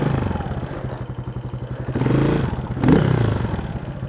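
A light motorcycle's engine runs steadily in a backyard, a close, loud pulsing drone that swells briefly twice as it revs.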